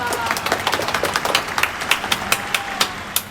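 At a campus student dialogue event, an audience claps, starting as dense applause and thinning into a few scattered, distinct hand claps toward the end, fairly close and clear.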